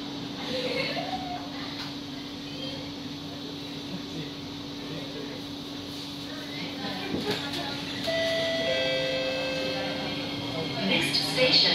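Singapore MRT East-West Line C151A train, batch 2, departing Tampines: a steady low motor hum and broadband rumble run throughout, with the door-closing chime tones near the end as the train sets off.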